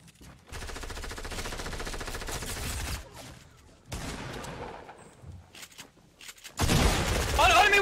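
Gunfire in Fortnite during a duo tournament match, with sustained rapid automatic fire in bursts separated by brief pauses and a louder burst at the end.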